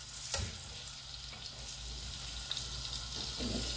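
Schnitzels fry in a pan with a steady, fairly loud broadband sizzle that continues throughout, a few small crackles and knocks on top, and no talking.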